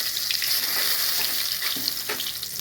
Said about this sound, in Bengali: কড়ার মধ্যে জিরে দিলাম, জিরে ফোড়ন, শুকনো লঙ্কা